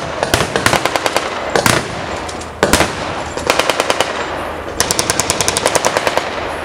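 Rapid bursts of automatic gunfire at a 1940s wartime reenactment weekend at a railway station, loud and close, with rattling volleys and single sharp shots repeating in clusters.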